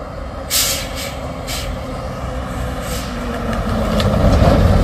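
Heavy truck struggling up a steep hill after stalling, then rolling backwards, with a hiss of air brakes near the start and a low rumbling engine and rolling noise that grows louder toward the end.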